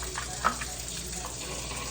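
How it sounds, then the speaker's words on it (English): A kitchen tap runs steadily while dishes are washed, making an even, close hiss of water with one brief clink. "Sorry, the water's running."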